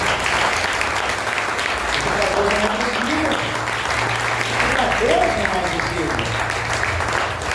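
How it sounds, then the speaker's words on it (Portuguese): A church congregation at an anniversary service in Santa Terezinha claps together in a sustained, even wash, with a pastor's voice and sung or spoken tones rising faintly over the applause. "Você pode aplaudir o nome do Senhor Jesus Cristo."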